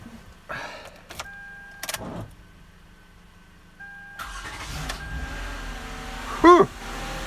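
Car engine being started with an Autogen 2400 jump starter after a dead battery: short cranking bursts and electronic beeps, then the engine catches and runs steadily nearby, without speech.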